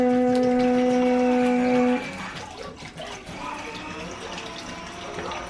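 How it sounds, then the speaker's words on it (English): Water is added to a blender jar holding sugar while making strawberry water. A steady humming tone gives way to a soft, continuous splashing pour with no speech. "And I'm gonna add water."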